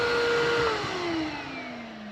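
A Miele Complete S8 Cat & Dog 2200W vacuum cleaner (model S8320) runs at full power, a loud steady whine and airflow roar with a motor tone that slowly drifts lower as it settles.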